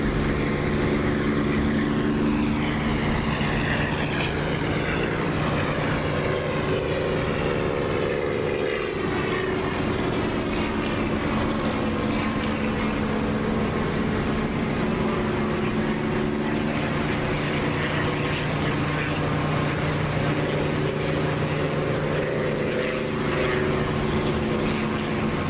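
P-51 Mustang and Spitfire piston engines from the DCS flight simulator drone steadily throughout, a loud, continuous propeller roar with slowly shifting pitch and no pauses or talk.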